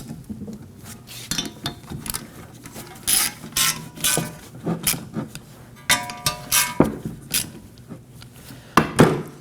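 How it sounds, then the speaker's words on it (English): Ratchet wrench driving wheel studs into a front hub on a 2011-2016 Kia Optima, rapid metallic clicking bursts repeating in short strokes with occasional clinks of tools, close and fairly loud, no talking. "now I'm gonna use a ratchet to get them all the way down"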